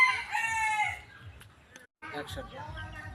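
A rooster crows at a rural home, loud and close at the start, then stops before talk and household noise. People speak in the clip.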